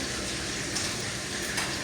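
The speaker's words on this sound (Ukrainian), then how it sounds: "Поки у нас м'ясце смажиться" Steady crackling sizzle of chicken thigh frying in a hot pan, close and continuous, with a couple of faint clinks.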